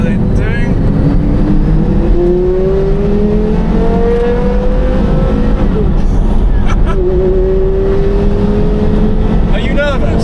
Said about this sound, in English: first drive back in the Carrera GT since its recall work